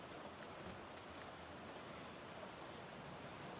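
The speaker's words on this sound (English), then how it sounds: "It's raining cats and dogs." Steady rain falls in the video game Back To The Dawn, a dense and even hiss that continues without a break and stands alone with no talk over it.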